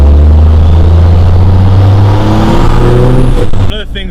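Pickup truck pulling away from a standstill, its engine loud and close as it revs and climbs through the gear, the drone rising steadily before cutting off near the end.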